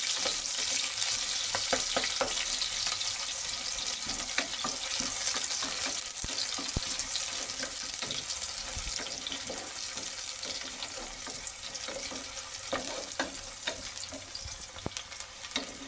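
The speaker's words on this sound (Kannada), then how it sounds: "ಈಗ ಇದೆಲ್ಲ ಲೈಟ್ ಬ್ರೌನ್ ಕಲರ್ ಆಗೋವರೆಗೂ ಫ್ರೈ ಮಾಡ್ಕೊಳ್ಳೋಣ" Sliced onion frying in oil in a pan for plain khichdi, a steady soft sizzle with faint crackles and occasional stirring clinks, fairly quiet and continuous, no talking.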